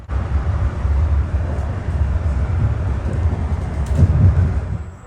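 South Shore Line train running alongside a CSX intermodal, a loud, steady low rumble of rolling cars and engine noise, continuous and close, with no voices.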